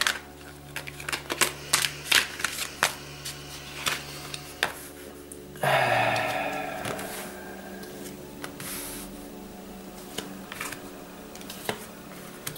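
Tarot cards shuffled by hand during a reading, with a run of close, crisp flicks and taps, then a louder rippling riffle midway, followed by scattered softer card sounds.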